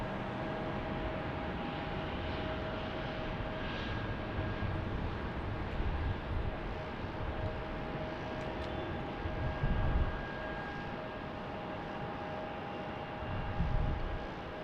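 An airplane taxis at Salt Lake City airport, giving a steady, distant engine rumble with faint whining tones that swells slightly a few times, without talk.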